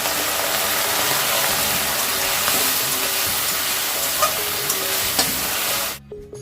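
Onions and ginger-garlic paste sizzle steadily in a hot pan, a dense continuous frying hiss with faint stirring scrapes, loud and close, cutting off abruptly near the end.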